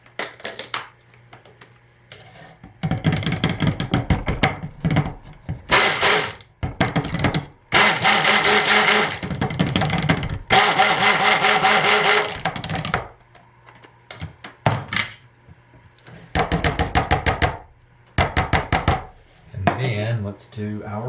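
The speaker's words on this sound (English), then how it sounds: "I got this clean stick blender head for the white." Stick blender whirring in bursts through white cold-process soap batter, repeated pulses of buzzing motor separated by short pauses, with occasional clinks between blends.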